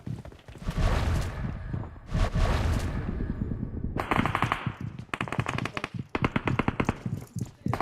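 Video game gunfire: repeated automatic bursts, loud and close, with short pauses between volleys and rapid rattling fire toward the end, no voices.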